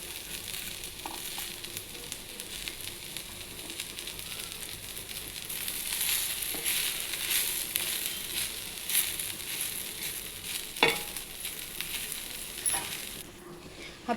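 Sliced onion and grated coconut roast in a dry pan for a spicy drumstick-pod masala, giving a steady close sizzle with scraping stirs and a few sharp clinks of the spoon against the metal, louder in the middle stretch.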